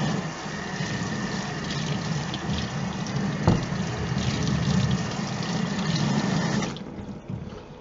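Tap water runs in a steady, close rinse over a graphite-coated armor piece, a continuous splashing hiss with one brief knock midway before the flow cuts off near the end.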